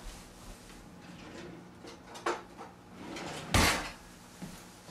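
A wooden kitchen drawer slides open and thumps shut amid light kitchen handling noises, with a couple of knocks and a louder closing bang near the mic, no talking over it.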